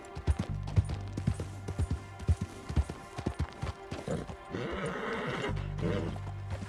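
In Red Dead Redemption 2, a horse clip-clops along in a rapid rhythm of close hoofbeats, then lets out a loud drawn-out whinny before the hooves resume.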